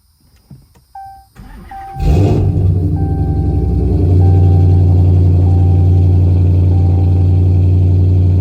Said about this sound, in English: As you guys can hear, this is the vehicle cold start reveal. It is loud.